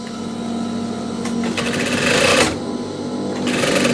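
A sewing machine runs steadily while stitching the back panel of a denim jacket, a continuous close motor hum with rapid needle clatter that surges louder in a few bursts.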